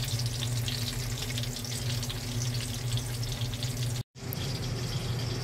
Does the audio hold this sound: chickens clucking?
no